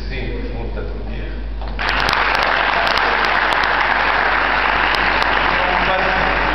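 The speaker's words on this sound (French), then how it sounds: "je vais t'applaudir" Applause at a Moroccan employment forum, a steady dense clapping that swells after a quieter stretch with talk and then runs on loud and continuous to the end.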